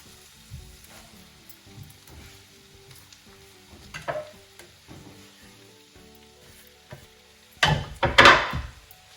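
Chopped spinach dropping into frying onions, with a quiet sizzle and soft stirring scrapes that flare into a loud burst of hissing near the end, heard alone without talk.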